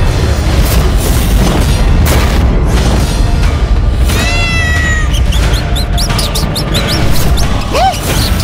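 A demonic cat in an animated devotional story gives several short rising meows and one longer wail. They sit over a loud, dense rumble of booming music and effects.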